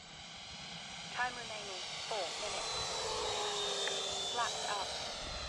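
RC model airplane with twitchy ailerons flying on low rates during short-field takeoff and landing practice, a steady engine or motor drone running throughout with slight pitch shifts as it passes, moderately distant.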